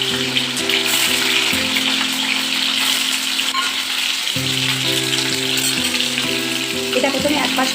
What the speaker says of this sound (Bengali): এতে আমার তেল গরম হয়ে গেছে। আমি পনিরগুলো ছেড়ে দেবো।